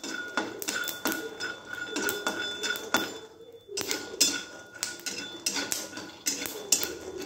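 Peanuts crackle and rattle as they roast in a pan, a rapid run of dry clicks with a brief pause partway through.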